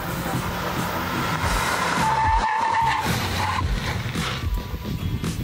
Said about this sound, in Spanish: Vamos a calentar las llantas y frenar en el mismo lugar.